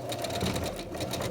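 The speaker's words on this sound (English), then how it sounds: "So we're going to start stitching along the shaped curved line." A sewing machine stitches a curved seam on a single-ply upcycled face mask, a steady fast mechanical whir with rapid regular needle pulses, close and alone.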